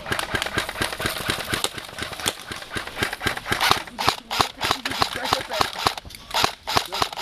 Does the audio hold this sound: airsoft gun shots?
yes